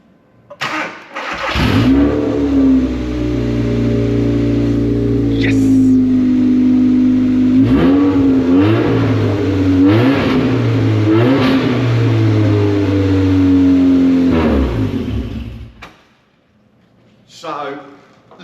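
An old Ford Fiesta engine, unrun for years, cranks, catches and roars into a loud, rough, sustained rev that rises and falls for about fourteen seconds before cutting off abruptly.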